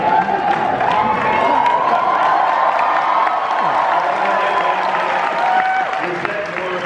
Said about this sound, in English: Is that more applause than we got?